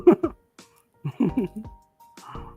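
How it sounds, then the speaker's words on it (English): A few sharp, harsh bursts in quick succession, then more short rough coughs after a pause, close by with quiet gaps between. "I was coughing so much."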